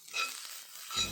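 Thinly sliced onions hit a hot pan with chana dal, giving a soft, steady frying hiss with a brief stir near the end, close and fairly quiet with no voices.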